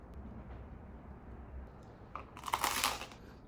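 A piece of toast eaten alongside fish and salad gives a few crisp, close crunches near the end, following a quiet stretch of faint room tone.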